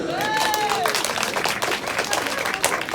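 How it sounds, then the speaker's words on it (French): A concert crowd applauds and cheers in a steady, full wash of clapping, with some voices and a tonal sound rising over it early on. "Vous pouvez l'applaudir quand même"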